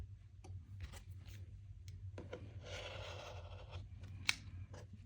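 Quilt fabric pieces being trimmed along a ruler with a cutter, making a close, quiet rasping cut with a few scratchy strokes and a small tap near the end.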